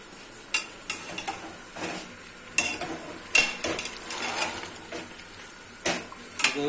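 Half-cooked meat is stirred and fried for bhunai in a pot for arvi gosht, giving soft sizzling under sharp intermittent scrapes and clanks of a spoon against the metal, with no voice.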